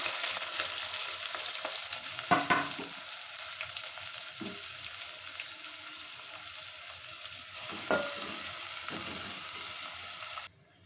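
Chopped onions sizzle and fry steadily in hot oil with mustard seeds, cumin and curry leaves for a masala ivy gourd curry, a continuous close hiss with a few stirring clatters and no talking.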